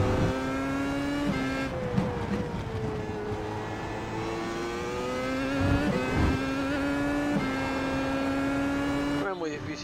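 An old Williams F1 car in a racing video game: a loud, high engine whine that climbs through the revs, drops at gear changes, and has brief tire squeals and skids, heard close throughout.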